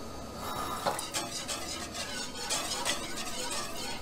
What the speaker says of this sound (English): I'm going to shut the heat off and stir in my vanilla now